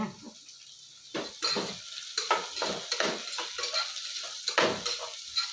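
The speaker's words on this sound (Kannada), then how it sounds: "ಈ ಎಣ್ಣೆಯಲ್ಲಿ ಒಗ್ಗರಣೆಯಲ್ಲಿ ಫ್ರೈ ಮಾಡಿದ್ರೆ ಚೆನ್ನಾಗಿ ಇದಾಗುತ್ತೆ" Sprouted fenugreek seeds sizzle and crackle in hot tempering oil while a spoon stirs them in the pan, with bursts of frying noise and occasional metallic scrapes, close and fairly loud, with no talking.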